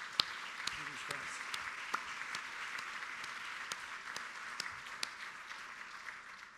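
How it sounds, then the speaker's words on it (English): Audience applause fills the room at a 2023 awards breakfast: a steady wash of clapping from a seated crowd, moderately faint and even, with a few sharper individual claps standing out, no talking over it. "please join me in giving a big round of applause to these guys."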